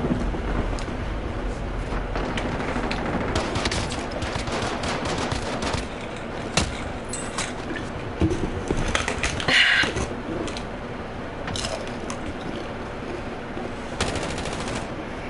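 Rapid video game gunfire, dense bursts of shots repeating steadily throughout and loud up close, with sharper cracks standing out at intervals.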